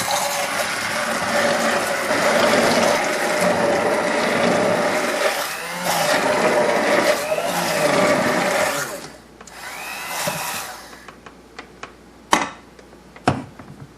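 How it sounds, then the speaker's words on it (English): An immersion blender purees tomatoes in a pot, a loud continuous whirring grind that surges and dips for about nine seconds, then stops, followed by a few scattered knocks and clatters. "we take our immersion blender and start pureeing the"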